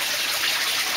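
Water from an aquaponics sump pours steadily through a river tunnel in an outdoor garden, a continuous close hiss of flowing, splashing water with no pauses.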